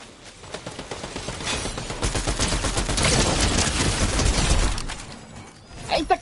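Dense, rapid gunfire in Fortnite, bursts running together for several seconds before cutting off, followed by a few sharp clicks.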